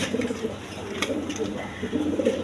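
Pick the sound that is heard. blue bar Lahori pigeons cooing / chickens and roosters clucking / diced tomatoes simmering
blue bar Lahori pigeons cooing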